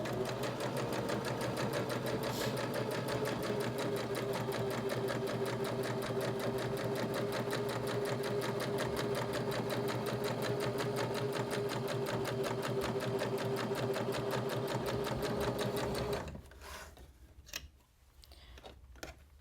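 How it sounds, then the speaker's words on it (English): A sewing machine stitches across the folded edge of a fabric pocket, a fast, even mechanical whir with a steady rapid ticking that runs continuously close by, then stops and leaves a few soft handling clicks. "I'm stitching the folded edge of our pocket"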